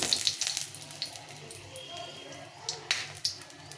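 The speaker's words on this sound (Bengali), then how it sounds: "এখানে তেলটা গরম হয়ে গেছে তো তেলে আমি একটা শুকনো লঙ্কা দেবো" A dried red chilli dropped into hot mustard oil, giving a faint, low sizzle with a few small crackles and pops near the start and end, fairly quiet throughout.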